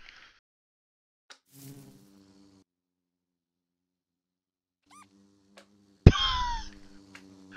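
Bee buzzing in Minecraft, short scattered buzzes and flutters against near silence, followed by a sudden louder burst of mixed game sounds near the end.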